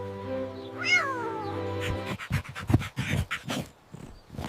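A cartoon cat gives a drawn-out, wavering meow up close, followed by a burst of panting and rustling noises, all in an animated rescue scene.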